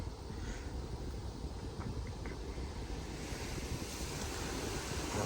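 High-pressure car wash spray pours over an iPhone 5C, a dense continuous hiss and rush of water filling the whole clip at steady loudness, no talk.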